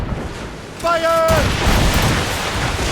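Cannon fire in the naval video game Assassin's Creed Rogue: a shouted command, then a loud, sustained broadside roar that rumbles on for the rest of the clip.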